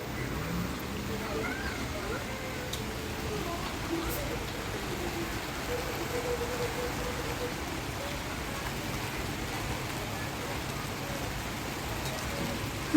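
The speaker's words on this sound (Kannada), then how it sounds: "ಗಾಯ್ಸ್ ನೋಡಿ, ಮಳೆ ಬರ್ತಾ ಇದೆ." Rain falls outside after dark as a faint, steady wash of noise that never rises or breaks, with muffled voices barely present beneath it.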